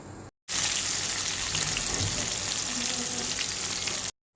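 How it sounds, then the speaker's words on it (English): Bhindi okra frying in a very well oiled old frying pan, a loud, steady hiss and sizzle that starts abruptly and runs continuously for a few seconds before cutting off, close up with no talking. "now I'm going to be frying bhindi okra in a very well oiled old frying pan of mine"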